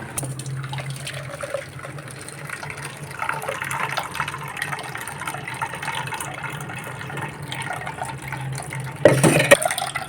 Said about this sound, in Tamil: இது வந்து முதல் பால் எடுத்துக்கலாம்